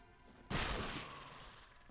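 A close-quarters gun fires in a Fallout London firefight among the Southwark Ruins, one sudden loud blast that rings and decays over the next second, with no voices.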